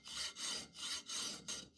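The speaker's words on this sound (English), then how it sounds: "use the side of the square nut to line up your hacksaw" Hacksaw cutting a square nut, with four rhythmic back-and-forth strokes giving a raspy scraping sound, close and steady, with no talk.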